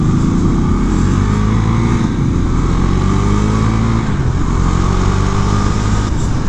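A Husqvarna Svartpilen 401 motorcycle accelerates, heard from the rider's position as a loud, continuous engine drone with rising tones and heavy wind rush.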